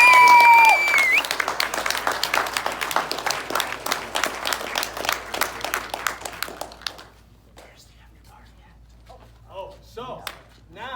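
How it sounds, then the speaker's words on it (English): An audience at a film premiere bursts into loud, dense clapping that gradually thins out and fades to a few scattered claps, with voices and chatter rising near the end. "So give them a round of applause"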